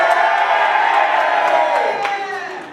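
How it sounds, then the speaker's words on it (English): Stoke City fans in an awards-night audience let out a loud, brief cheer with whoops and shouts, a dense roar that holds for a couple of seconds and then begins to fade. "I don't know why he's allowed a cheer there."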